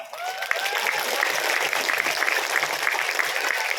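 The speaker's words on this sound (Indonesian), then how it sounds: "tepuk tangan dulu dong" An audience at a Muharram celebration gathering claps in a dense, steady burst of applause that carries on throughout, with faint voices beneath.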